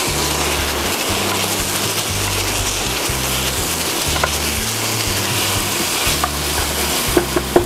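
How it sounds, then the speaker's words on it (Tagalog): Pork belly (liempo) frying in oil for Korean kimchi stew, a continuous loud sizzle and crackle with occasional pops and stirring clatter, no talk. "pagmamantikain muna natin ang ating liempo"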